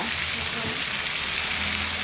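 Steady, dense sizzling of food frying in a pan, continuous and fairly loud throughout with a faint low hum underneath.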